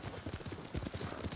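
Horse hooves clip-clopping at a steady riding pace in the video game Ghost of Tsushima, soft rhythmic thuds close by and fairly quiet.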